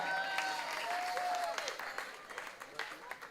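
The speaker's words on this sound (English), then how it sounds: "Can we put our hands together and give thanks for our sponsors?" Audience applause fills the whole stretch at the national finals of a performing arts festival drum fest, a dense spread of clapping with a few sharper claps standing out, while a whistle-like tone sounds briefly near the start.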